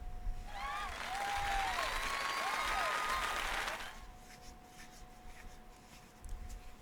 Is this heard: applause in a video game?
yes